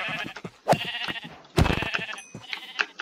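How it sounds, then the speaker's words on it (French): A sheep in the Minecraft video game bleats in short, distinct cries, two louder calls standing out among quieter sounds in the game. "Ah bah, un mouton."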